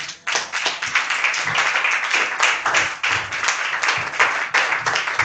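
A church congregation claps together in praise, a dense steady rhythm of many hands close by and loud, continuing without a break.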